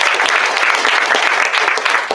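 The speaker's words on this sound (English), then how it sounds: "We clap for that." Graduation ceremony audience applauding, a dense and steady burst of clapping from a large crowd that holds at full strength from start to finish.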